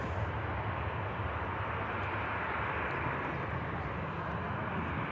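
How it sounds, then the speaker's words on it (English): Ryanair airliner taxiing out at Manchester Airport, a steady, continuous broadband jet engine rumble at moderate distance with no change in level across the stretch. "Ryanair on the taxi out as well"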